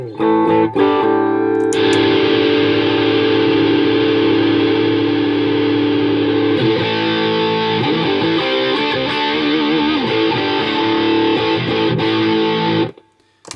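Electric guitar chords through an MCE Battlehammer distortion pedal ring out loud and sustained, with a dense, fuzzy tone that holds steady before cutting off abruptly.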